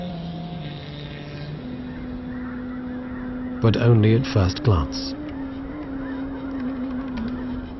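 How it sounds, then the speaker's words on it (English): Migratory geese honk in a quick cluster of loud calls amid wintry lakeside ambience on the Danube Delta, with a steady low drone underneath and a narrator speaking before them. "Migratory birds from the Arctic have arrived to spend the winter here."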